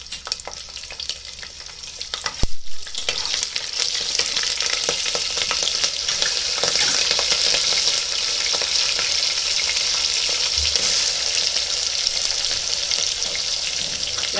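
Cardamom and bay leaf crackle and fry in hot oil for methi gosht: a dense, loud, continuous sizzle that swells after a sharp clatter near the start and keeps going with no talk.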